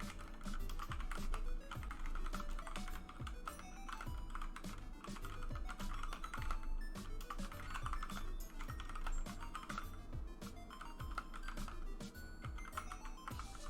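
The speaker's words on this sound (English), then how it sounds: "Yeah, you've been typing a lot." Rapid clicking of computer keys, typed in uneven bursts close to the microphone over a faint low background hum.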